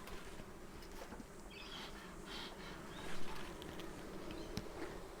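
A steady, dense buzz of many honey bees around a Flow Hive brood box fills the space, close and continuous, with a faint low rumble beneath and no talking.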